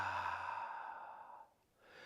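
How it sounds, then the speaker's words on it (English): A long, breathy exhale through the mouth after a deep inhale at the close of a lunchtime yoga flow, steady and fairly close, fading out over about a second and a half, then a faint breath. "Take a nice big inhale through your nose and exhale out your mouth."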